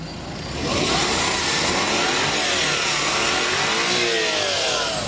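A Japanese multipurpose van engine running close by, revving up after a quieter start, its pitch rising and falling in sweeping surges.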